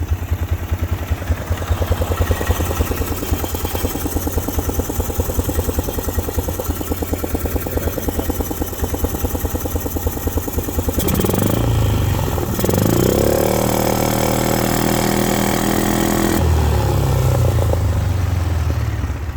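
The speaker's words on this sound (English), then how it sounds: "That was wide open throttle." A 2000 Polaris Sportsman 500 6x6 ATV engine with a stuck carburetor slide, idling roughly then revved hard at wide open throttle, a loud close droning putter that rises and holds before dropping back, with no talk.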